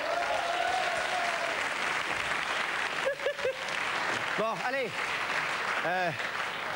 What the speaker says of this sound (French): applaudissez la patrouille